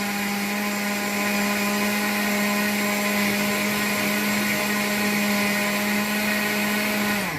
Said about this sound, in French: Là, je vais passer au mixeur pour mixer tous les ingrédients.